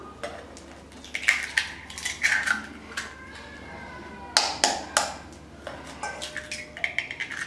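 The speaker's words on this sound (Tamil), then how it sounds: "இப்போ முட்டை உடைச்சிக்கலாம்." Eggs are cracked against a bowl for egg paniyaram in a South Indian kitchen, giving a series of sharp close taps and clinks, some clustered in quick pairs, with quiet gaps between them.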